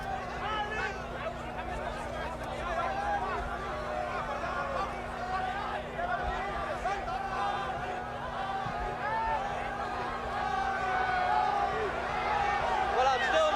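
An excited crowd at ringside in Zurich during Muhammad Ali's boxing bout against Jurgen Blin, a continuous roaring murmur of chatter and cheering under someone talking.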